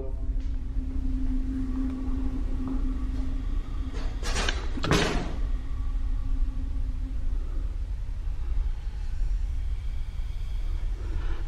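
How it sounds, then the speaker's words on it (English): Door locks release and doors slide open in a building: a short cluster of sharp metallic clacks and a rumbling slide stands out midway over a steady low hum, with quieter knocks before and after. "Sound like the locks on the doors are opening up"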